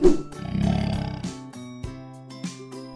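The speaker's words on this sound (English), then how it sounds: "Lion." A lion gives a single short roar over light musical tones, a rough growl that rises and fades within about a second.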